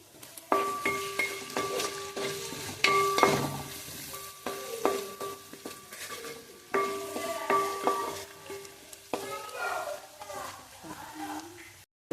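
Chicken, egg and rice are stir-fried in a pan, with a steady sizzle, repeated scraping strokes and sharp metallic clinks of a spatula against the pan, close by, while a voice speaks now and then.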